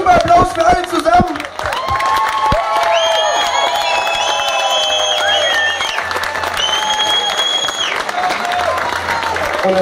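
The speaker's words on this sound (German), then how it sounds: "Super Applaus für alle zusammen!" A live audience applauds and cheers after a wind band's performance with drummers, with sustained loud clapping, scattered whoops, and some speech over the crowd.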